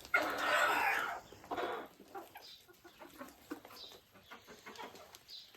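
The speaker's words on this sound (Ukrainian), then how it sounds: "Вже оця курочка хоче сісти на яйця. Вже квокче ходить." A broody hen clucks among other farmyard poultry, with a loud burst of squawking and clucking at first, then scattered softer clucks and chirps close by.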